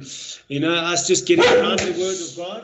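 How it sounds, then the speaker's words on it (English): A poodle barks and yaps indoors, close and loud, mixed in with someone talking over it through most of the stretch. "Excuse my dog's carrying on you."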